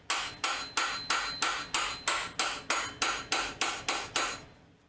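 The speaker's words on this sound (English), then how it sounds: "do not beat your frickin' rods with a hammer" A hammer strikes engine connecting rods from a Honda D15B1 engine teardown in a steady rhythm of about thirteen sharp metallic blows, close and loud, with no talking.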